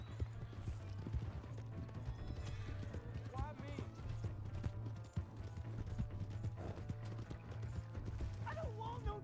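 Horse hooves clip-clop steadily in a Red Dead Redemption 2 scene, a continuous trotting rhythm under busy game ambience, with scattered shouting voices and what may be dog barks mixed in.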